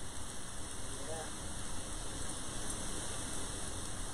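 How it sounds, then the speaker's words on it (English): Heavy rain pours down outside as a dense, constant hiss of drops that holds steady throughout at a moderate level. "that rain is coming down"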